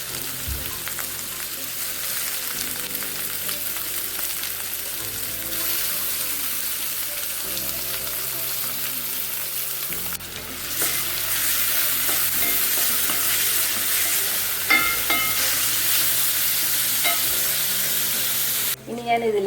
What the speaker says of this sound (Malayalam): വെളിച്ചെണ്ണ ചൂടായി. ഉള്ളിയും തക്കാളിയും എല്ലാം ഒന്നിച്ചിടുവാണ്.